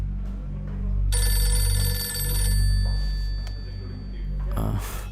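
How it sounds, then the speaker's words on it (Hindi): A mobile phone ringtone chimes for about a second and a half, bright and melodic, over a low rumbling background in a Hindi thriller film scene, with no talking over it. "ए, भाई ये रिंगटोन मुझे चाहिए।"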